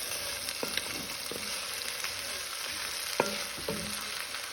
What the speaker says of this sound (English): This is 2 large white onions. And we're going to cook them down.